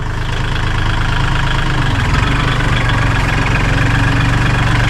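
A steady, loud tractor engine idles and rumbles continuously with a low, throbbing drone, no voices present.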